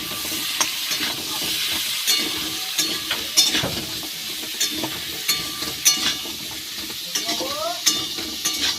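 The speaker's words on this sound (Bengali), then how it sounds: "লবণ, হলুদ গুঁড়ো ভালো করে মিশিয়ে ভেজে নেব।" Pumpkin and potato pieces fry in a pan with salt and turmeric powder, a close, steady sizzle broken by repeated scraping strokes of a spatula stirring the vegetables.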